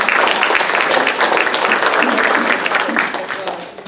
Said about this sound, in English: please give them a round of applause for the welcome